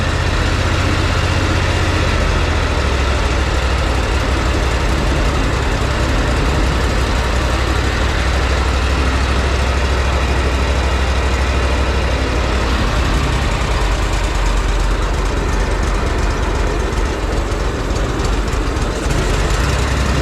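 The engine of a Wright Stander X mower with a dirty carburetor runs continuously, a loud, steady low rumble close by that drones on without clear stalls, and no one speaks.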